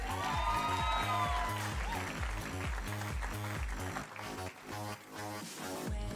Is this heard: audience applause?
yes